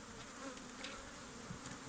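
Honeybees buzz during a honey harvest from the hive, a soft, continuous droning hum of many insects, faint and close, with no talking over it.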